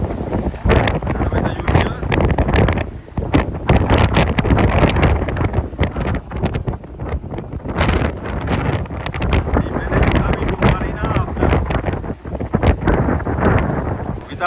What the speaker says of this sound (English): It's terrible wind.